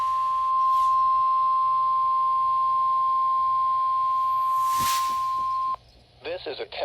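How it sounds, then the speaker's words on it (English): A National Weather Service weather radio warning alarm test tone, one loud steady pure tone held for several seconds before it cuts off into brief static and bursts of noise. "This is a test of the National Weather Service weather radio warning alarm"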